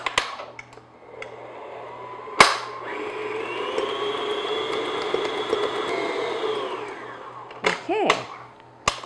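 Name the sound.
electric mixer beating butter on medium speed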